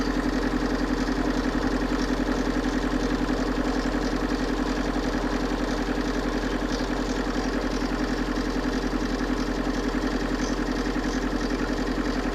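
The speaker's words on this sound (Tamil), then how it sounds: "இன்ஜின் ரன்னிங் தான் இருக்குது." A Tata Sumo Grande engine idles steadily throughout, a constant low rumble with faint mechanical ticking and no voices.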